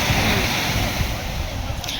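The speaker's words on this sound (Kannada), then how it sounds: "ಅದೊಂಥರ ಬಂಡೆ ಮೇಲೆ ನೀರು ಬರ್ತದೆ" Sea waves wash over rocks on a beach at sunset, a steady broadband rush of surf and spray filling the scene, close and continuous, with some wind.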